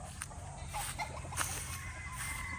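Young roosters (stags) clucking softly in a coop, several short scattered clucks and chirps over a low steady hum, fairly quiet and without speech.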